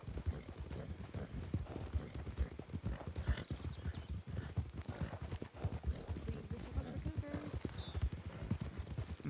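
Horse hooves clip-clop in the RedM western video game, a dense, steady rhythm of several horses moving together, close and continuous, with faint voices talking underneath.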